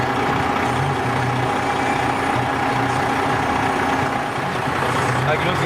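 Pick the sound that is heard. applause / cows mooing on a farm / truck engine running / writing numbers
truck engine running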